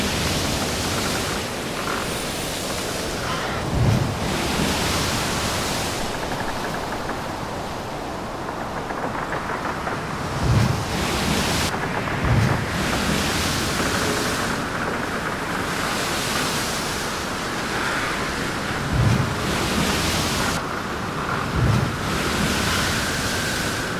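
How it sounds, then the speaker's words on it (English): Choppy sea and steady wind rush past a sailboat running downwind at about 7.5 knots, a continuous broadband roar with occasional louder splashes and thumps of water against the hull, and no voices. "The sea's really choppy and the main was just slamming all the time."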